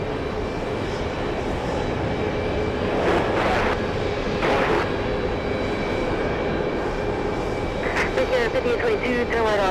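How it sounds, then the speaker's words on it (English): A Delta Airbus A330neo airliner arriving at JFK airport, a steady loud jet engine roar that holds throughout, with a few brief voice or radio bursts over the engine noise. "It's a big Delta A330 Neo. And of course, whenever I see that big Delta, we'll zoom into it. It's going to be a close-up arrival."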